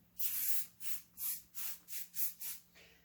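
Aerosol hairspray hissing onto hair in short bursts, about seven quick sprays in a steady rhythm, close and alone.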